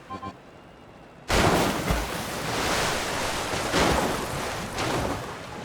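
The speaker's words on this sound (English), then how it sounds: "How does it handle a waterfall though?" Water roars down a waterfall in The Legend of Zelda: Tears of the Kingdom, a sudden loud broadband rush that sets in abruptly after a brief quiet moment and keeps surging steadily.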